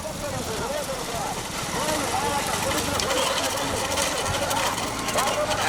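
A motorbike engine drones steadily nearby with a rattling buzz, growing slightly louder, while people talk over it.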